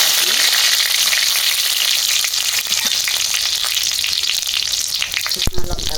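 Pieces of sola kochu (taro) fry in hot oil with dried red chillies, giving a loud, dense, continuous sizzle with occasional stirring clatter near the end.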